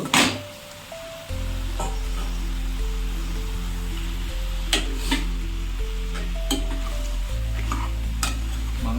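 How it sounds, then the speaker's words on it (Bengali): Chicken meat frying with onion and spices in a pan, a steady sizzle with scraping stir strokes and occasional clinks of a utensil against the pot, close and continuous with a low background hum. "মাংসটাকে ভালো করে পেঁয়াজ এবং মশলার সাথে মিশিয়ে নেব"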